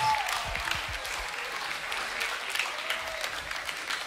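A church congregation claps and cheers at a worship service, a broad wash of applause that is fairly faint and steady throughout, with a voice briefly audible at the start.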